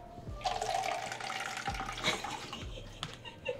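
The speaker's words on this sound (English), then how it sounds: "You should pour water on her." Water poured from a container splashes and gushes onto a person in a bathroom-like space, a loud sloshing pour lasting a few seconds with sharp thuds and splatters and no talk.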